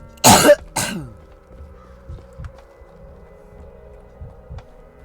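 Two sharp, close coughs in quick succession, followed by quieter throat sounds over a faint background hum.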